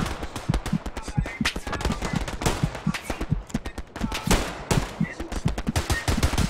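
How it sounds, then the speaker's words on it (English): Heavy machine gun fire rattles through a Hell Let Loose battle on Utah Beach, dense rapid bursts of loud gunshots overlapping with other weapons, continuous across the whole stretch with brief lulls. "Heavy machine gun fire from the east, guys."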